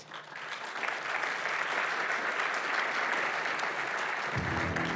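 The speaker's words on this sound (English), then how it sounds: "So please come to the stage and give a warm round of applause for Kira Vanderwerk from Outsiders Fund," An audience at a live startup pitch competition finale gives a warm, sustained round of applause as the judges come onto the stage. The dense clapping builds quickly and holds steady at a moderate distance with no voices.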